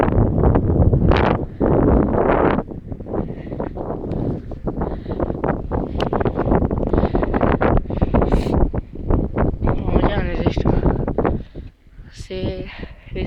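Gusty wind buffets the microphone in heavy rumbling bursts while a person talks over it, the roar rising and dropping throughout.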